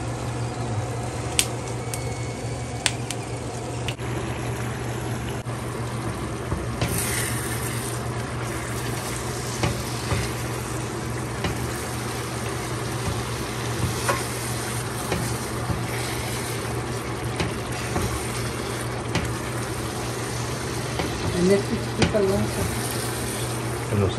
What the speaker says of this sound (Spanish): Vamos a ver que se dore el chorizo ahora sí.